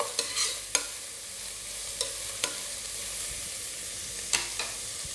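Four medium sliced onions sauté in a pan, with a soft continuous sizzle broken by several sharp spatula scrapes and knocks against the metal, close and without voices.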